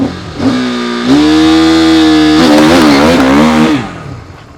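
A used sport motorcycle with a quickshifter revs hard and close, the engine note climbing steadily and then snapping through quick gear changes without dropping off, before fading at the end.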